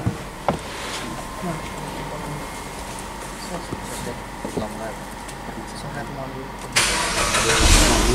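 A car engine cranks and fires up near the end, rising into a steady idle after a stretch of quieter background noise while people talk.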